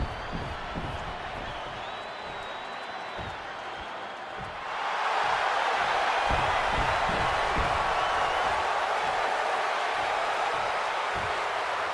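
A capacity wrestling arena crowd roars in the WWE 2K26 video game, a steady wash of cheering that swells sharply partway through and stays loud, with scattered claps and whoops.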